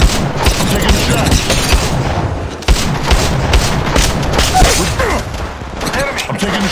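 Rapid gunfire from the mobile battle royale game Apex Legends Mobile, with dense, continuous bursts of shots and booming impacts running the whole way through, loud and busy, mixed with game voice callouts.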